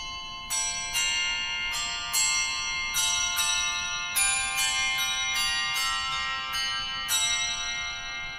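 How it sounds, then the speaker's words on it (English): Bright handbells from an organ's handbell stop ring in a sequence of clear, sustained tones, about a dozen strikes in a loose, melodic rhythm, each one ringing on. "And then we can activate the handbell stop."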